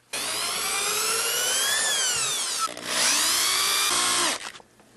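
Power drill driving big, long screws through wood to clamp the halves of a vertical sand flask for casting, a loud continuous whine with a pitch shift midway and a brief pause, alone.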